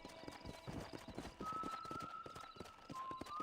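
Horse hooves clip-clop at a steady walking rhythm in the Red Dead Redemption video game, quiet and close, over a soft ambient bed with a thin tonal whine.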